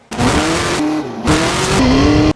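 A tubular-frame monster off-road car drives hard with a loud engine and squealing tires, the pitch sliding and dropping out briefly mid-run before the engine roars back in.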